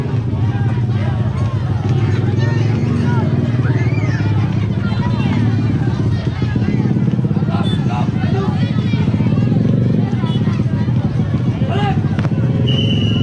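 Motorcycle passing close by a marching street-parade group, its engine drone steady under loud crowd babble and shouted commands throughout.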